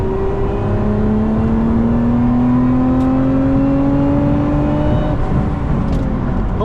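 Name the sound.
Lotus Emira V6 car accelerating hard in third gear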